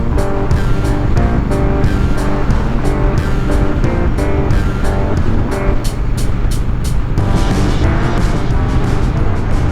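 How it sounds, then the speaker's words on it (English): Big truck passing on the road, heard from a motorbike: steady engine drone and road rumble under constant wind noise, with no talking. "Yep, big truck."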